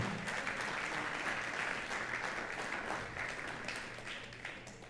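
A church congregation applauds at a Sunday service, with a sustained dense wash of clapping from many hands that slowly fades, heard at a moderate distance.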